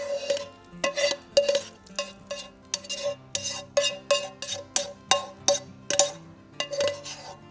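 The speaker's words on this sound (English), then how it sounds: "I'm going to give that a stir" A spoon stirs sautéed vegetables into a pot of keto cabbage soup, scraping and clinking against the pot in a steady rhythm of roughly a dozen close, distinct strokes, with no talking.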